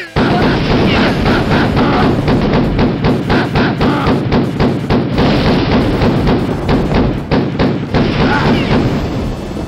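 Double pistols firing in a DOS video game played on retro hardware, a loud rapid string of thudding shots repeating throughout with barely a pause, with a voice talking underneath.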